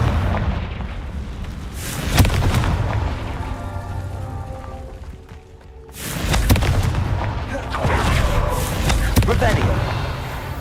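Fiery Confringo spell blasts go off in Hogwarts Legacy, heavy booming explosions with long rumbling tails, two big blasts separated by a brief lull.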